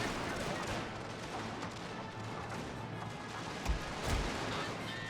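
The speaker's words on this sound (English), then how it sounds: "Go ahead and debuff a little bit by doing the suppression fire" Distant volley of suppression fire in a Prussian-faction strategy war game, a dense continuous rattle of massed musketry with a couple of heavier thumps near the end, played without talk.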